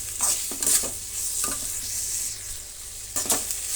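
Chopped tomato, onion and carrot sizzle steadily in a pan while a spoon stirs and scrapes the metal in several clear strokes, close and fairly loud, with no talking.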